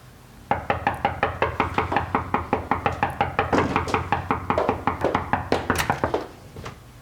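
A fist pounds on a wooden door in a fast, steady series of about thirty loud, close knocks lasting roughly six seconds, with no voices over it.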